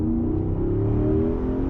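Porsche Cayenne Coupe Turbo engine on a downshift, a steady, loud, close drone whose pitch rises slightly, heard alone without talk.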